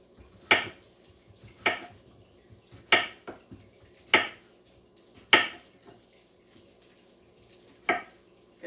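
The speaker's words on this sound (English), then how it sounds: "Okay, so now I'm just chopping up my potatoes." Potatoes being chopped in a home kitchen: six sharp knife strikes on a board, spaced about a second apart, close and distinct, with quiet gaps between.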